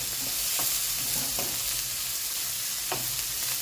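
Peas, peppers and onions stir-frying for egg fried rice, a loud continuous sizzle with a few scraping stirs of the spatula, no talking.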